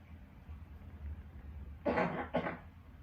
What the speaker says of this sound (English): I'm going to cough probably in every video